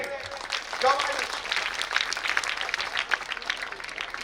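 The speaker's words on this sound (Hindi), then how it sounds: "Big clapping." Audience applause at a school annual function, a broad wash of many people clapping that swells and carries on under a voice speaking over a microphone.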